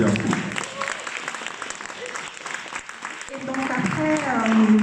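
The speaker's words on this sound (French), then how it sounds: "Je vous demande de l'applaudir" Audience applause at a Bpifrance entrepreneurship forum for Laetitia Levarato, a crowd clapping steadily for several seconds while a voice talks over the opening and again louder toward the end.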